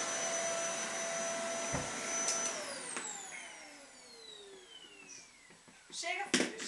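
A household vacuum cleaner runs with a loud whine that winds down as it is switched off, its pitch sliding lower, then a clunk and a brief restart surge near the end.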